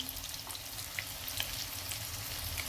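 Bread cutlets fry in a pan over lowered heat, giving a steady, close sizzle and soft crackle with faint pops that holds evenly throughout, no voices.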